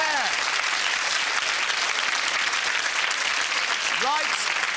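A studio audience at a comedy game show gives sustained, dense applause that holds at a steady loud level throughout, with a voice briefly heard over it near the start and again near the end.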